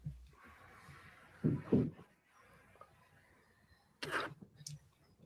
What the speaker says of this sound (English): I was having a coughing fit before that